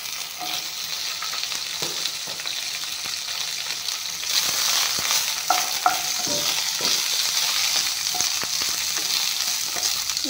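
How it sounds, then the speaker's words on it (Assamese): Okra fries in hot refined oil in a wok, with a steady close sizzle and occasional clinks and scrapes as it is stirred, the frying growing slightly louder partway through. "এতিয়া ভেন্দিখিনি ভাজি ল'ম।"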